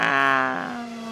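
A single Formula E electric race car at the 2016 British V-Prix passes close by with a loud, tonal electric whine whose harmonics slide downward in pitch as it moves away, fading over about a second.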